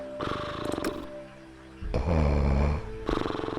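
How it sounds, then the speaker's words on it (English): A character snores in a Nancy Drew video game, two slow rumbling snore breaths with a quieter pause between them, steady and close, with no talk over them. "is snoring"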